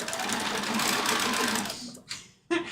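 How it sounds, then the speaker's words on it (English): A sewing machine re-stitches a seam through fabric in a close, continuous whir for about two seconds, then stops with a couple of short clicks. "I'm going to re-sew the seam I just ripped that did not need to be ripped"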